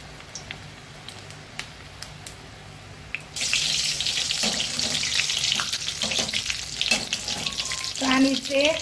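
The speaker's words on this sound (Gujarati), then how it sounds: "તો આપણે ડુંગળીના ભજીયા હવે મસ્ત પાડી લઈશું." Onion bhajiya fritters dropping into hot oil set up a loud, steady sizzle and bubbling that starts abruptly after a few quiet seconds and continues close up to the end.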